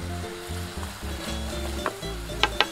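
Chopped vegetables with onion sizzle in a hot pan with paprika going in, a steady frying hiss under low bubbling, with a few sharp spatters near the end.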